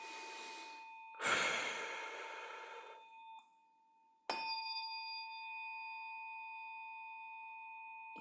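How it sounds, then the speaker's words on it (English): A single deep breath is drawn in and slowly let out, close and fairly loud, followed after a short pause by a struck ringing tone, like a singing bowl or chime, that sustains and slowly fades. "Take a breath."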